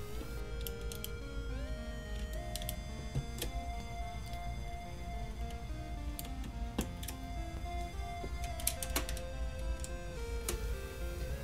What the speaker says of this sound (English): I'll go ahead and start reinstalling the keys